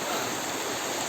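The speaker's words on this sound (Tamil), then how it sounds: "This is a ஒலக்க அருவி. ஒலக்க போல கிடக்குது இந்த அருவி காய்ஸ்." Ulakkai waterfall in Kanyakumari gives a dense, steady roar of rushing water, loud and close, with no voices.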